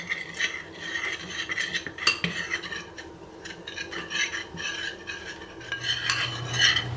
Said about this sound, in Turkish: Karıştırmaya devam ediyoruz.